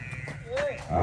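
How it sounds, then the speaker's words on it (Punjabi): A Nili-Ravi buffalo on a Pakistani dairy farm gives a single short, fairly faint moo that rises into a louder lowing at the end, heard alone without speech. "ਵੱਡੀ ਮੱਝ।"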